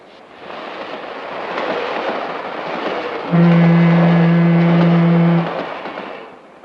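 Passenger train rumbling out of Chicago, a steady low roll that swells midway as a sustained two-tone horn blast sounds for about two seconds before fading back into the running noise.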